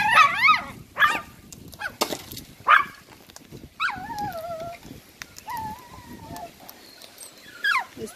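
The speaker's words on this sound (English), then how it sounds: "There's the dogs down there, looking up at them." Dogs below whine and whimper, looking up at something out of reach: repeated high, wavering cries and short yips, some drawn-out and rising, close by, with a person talking intermittently.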